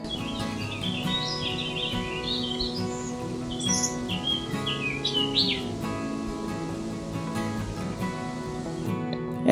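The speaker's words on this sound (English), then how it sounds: "You can hear the birds." Birds chirp and tweet in quick, scattered bursts on a warm, sunny day at a lakeside campsite. The calls continue over a steady humming background.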